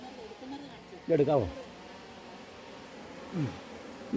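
A swarm of honeybees hums low and steadily as they are scooped from a wild hive into a box, while someone speaks over the buzzing in short bursts.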